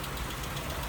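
A stock 1948 Plymouth Special Deluxe Coupe engine idles smoothly in a brief, steady low rumble, with even background hum and no speech.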